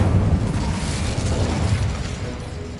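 An Incendio fire spell erupts in Hogwarts Legacy as a dense, rumbling burst of fiery blast noise, loud and continuous throughout the short moment with no speech.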